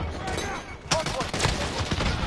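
Rapid gunfire in Call of Duty Modern Warfare, a loud dense burst of automatic shots crackling close by, clustered in quick bursts with brief gaps between.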